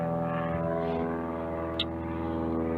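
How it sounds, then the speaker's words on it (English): A propeller aeroplane drones steadily overhead, a loud continuous engine hum with rich harmonics that holds throughout, with no talk. "Shut up, aeroplane."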